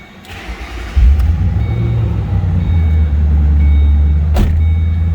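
A supercharged 2006 Ford Mustang Saleen S281 convertible cranks and fires up, settling straight into a loud, deep, steady idle rumble with a brief sharp transient near the end.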